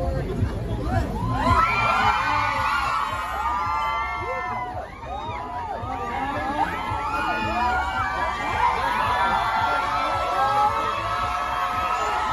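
A crowd of fans at the SB19 Wish USA Bus performance cheers and screams steadily, with high excited shouts and whoops rising over dense babble, loud and sustained throughout.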